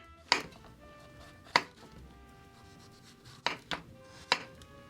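A knife slices through peppers on a cutting board, giving five sharp chops spaced unevenly, two of them close together, loud and close with a quiet kitchen behind.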